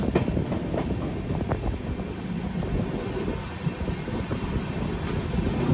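Magadh Express train rumbling past on rail, a steady loud rolling roar with faint clickety-clack from the wheels and no voices throughout.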